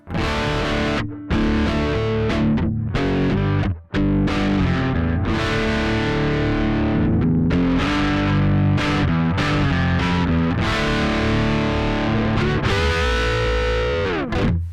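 Distorted bass guitar through a Two Notes ReVolt Bass dirt channel with cab sim, gritty and thick, playing a riff of sustained notes and slides, loud and close with no talking.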